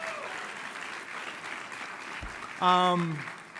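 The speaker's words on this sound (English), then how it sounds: "the kids on the stage who are behaving very well deserve an amazing round of applause" A crowd at a food policy celebration gives steady, moderately distant applause for the children on stage. A voice briefly speaks over the clapping near the end.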